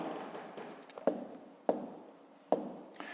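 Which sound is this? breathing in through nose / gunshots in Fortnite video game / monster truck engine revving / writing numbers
writing numbers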